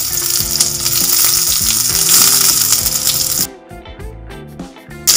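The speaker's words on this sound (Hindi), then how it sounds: "अब इसमें ऐड करेंगे हम कटे हुए प्याज।" Loud, steady sizzling of chopped onions frying in hot oil with stirring, then the sizzle drops away abruptly, leaving scattered softer scraping and clatter.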